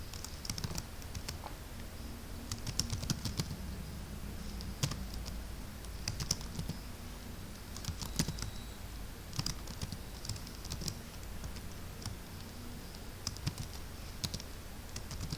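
Source code is typed on a computer keyboard in a steady, continuous patter of close key clicks with occasional louder strikes, running without pause and with no talking.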